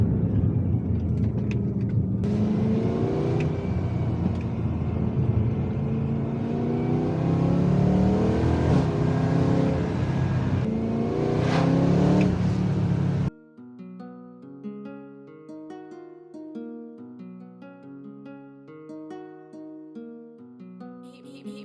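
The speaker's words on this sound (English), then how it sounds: "I'll just let you have a little sound, a little listen to this amazing naturally aspirated V8" Naturally aspirated V8 of a BMW E92 M3 revving hard, a loud, close, rising and falling engine roar for about thirteen seconds, then cut off and replaced by music.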